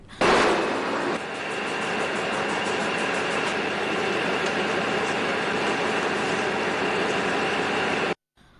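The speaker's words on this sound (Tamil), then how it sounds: "காலி ரயில் நிலையத்தில் நேற்றிரவு பதிவு செய்யப்பட்ட காட்சிகளே இவை" A train at Galle railway station at night, a loud steady rumble and mechanical drone that starts abruptly and holds evenly for several seconds before cutting off, close by with no talk.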